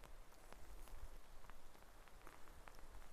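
Steady, faint rain patters on a surface in a garden in Denmark, with scattered individual drops ticking over a constant wash of noise; no voices.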